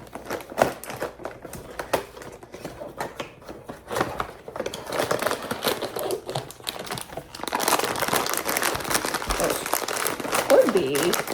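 A Pop Mart blind box package being torn open, with crinkly plastic and paper rustling and ripping close up, busier toward the end, while a person talks over it.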